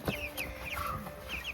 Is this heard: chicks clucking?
yes